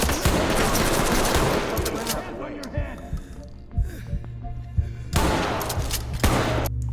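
Enemy gunfire suppresses a player through windows in the tactical shooter Ready or Not, with loud rapid automatic bursts, then scattered individual shots and a renewed heavy volley near the end.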